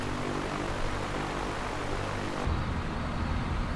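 The propeller engine of an A2A Piper Cub in the Prepar3D flight simulator drones steadily and close, a constant buzzing hum with a slight shift in tone partway through.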